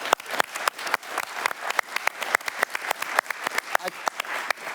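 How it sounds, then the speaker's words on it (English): Conference audience applauding after a talk on new network switches, with sharp individual claps standing out over a steady patter, moderately close and continuing throughout. "So please give it applause for Eric."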